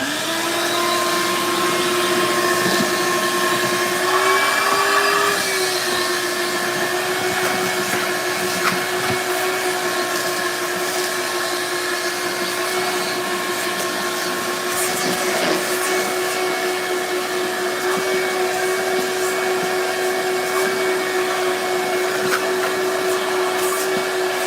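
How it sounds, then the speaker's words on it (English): A vacuum cleaner runs continuously during kitchen ceiling remodeling with insulation debris, a loud steady whine with a slight pitch shift early on, and no talking. "See if I can vacuum it."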